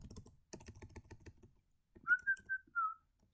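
Short whistled tune blown close into a microphone, four or five clear high notes in a quick run following a stretch of computer keyboard typing clatter, with no talking.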